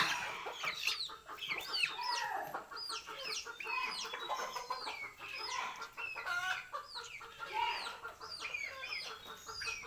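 Several chickens and small chicks eating cabbage cluck and cheep close by, overlapping repeated calls with soft background rustling.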